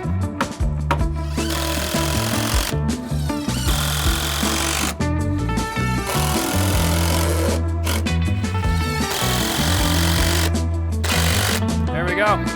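Structural screws being driven into wooden deck framing with a power driver, loud buzzing bursts of the motor stopping and starting in an irregular rhythm, close and continuous for long stretches.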